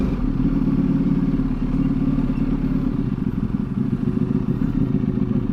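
A Ducati V4 motorcycle engine runs close by in first gear with a loud, continuous, rapid-pulsing rumble, throbbing evenly and alone with no talk over it.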